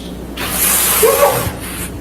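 A single sharp sneeze in a courtroom, a loud breathy hiss-like burst lasting about a second, heard alone without talk.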